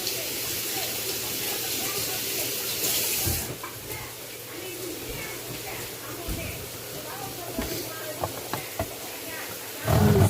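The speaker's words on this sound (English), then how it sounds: "Let's do this lime and rinse." Tap water runs steadily into a kitchen sink as a lime is rinsed, then the flow stops midway, leaving a few faint handling clicks before another burst of noise at the end.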